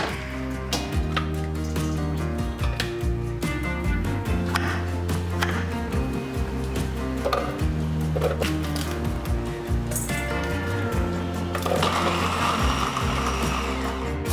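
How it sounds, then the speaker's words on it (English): A food processor whirs continuously as it chops onions for homemade barbecue sauce, its motor humming steadily under rhythmic pulses and clattering blade noise throughout. "One major key to having the food processor trick work is to not overfill your food processor"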